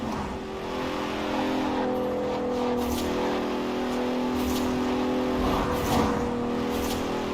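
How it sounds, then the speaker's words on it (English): The engine of a 2017 Bentley Continental Supersport grand tourer in the racing game Forza Horizon 4 drones steadily and loudly throughout, a continuous smooth rumble with gradual pitch shifts as it accelerates. "The 2017 Continental Supersport is responsive, fast, and beautifully designed."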